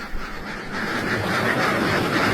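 A flock of ducks heading to rice paddies quacks in a dense, continuous chorus at close range, with steady outdoor noise and no talking.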